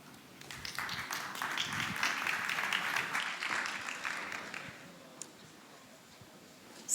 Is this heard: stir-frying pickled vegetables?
no